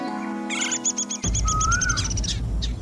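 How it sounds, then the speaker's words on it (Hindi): Small birds chirp in a tree in a quick run of bright, repeated tweets, one sweeping whistle among them, following a brief sustained musical tone, loud and close with no talking. "ऊपर उस पेड़ पर कितनी सुंदर चिड़ियाएं बैठी हैं।"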